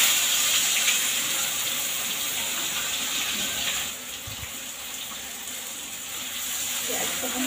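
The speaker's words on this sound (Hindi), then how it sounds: "अभी प्याज डाल दी," Onions frying in a pan while fish masala is cooked at home: a steady, bright sizzling hiss that holds across the clip, dipping slightly midway, with no talk over it.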